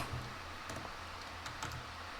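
Typing on a German-layout computer keyboard, scattered key clicks in quick irregular bursts, quiet and close, with no one speaking.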